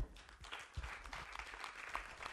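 Audience applause at a short film festival: a faint, distant wash of clapping that holds steady for a couple of seconds.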